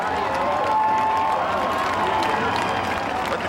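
Crowd noise at a dirt track race right after a car barrel rolls, a steady broad roar of cheering and applause that holds at a constant level throughout, with no distinct voices standing out.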